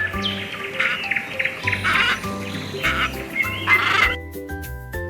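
A cockatoo calls in harsh, repeated bursts over steady background music, the squawks rising and falling close up before the music continues alone at the end.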